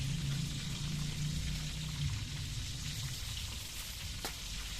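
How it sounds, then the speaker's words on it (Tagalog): Steady broadband hiss and crackle of fish frying in a pan, continuous and fairly close, with a low hum underneath and no talking. "Nagpiprito ako ng isda."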